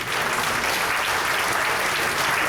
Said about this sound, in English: Can we have a great big applause for everyone?